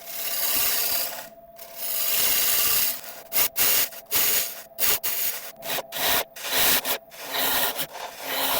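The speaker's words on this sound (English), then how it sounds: "after that I'll take over with a 45-degree bowl gouge to create the last bit of the curve" A 45-degree bowl gouge scrapes and cuts wood spinning on a lathe, a loud, close rasping hiss broken by short pauses as the tool lifts away and returns to the surface.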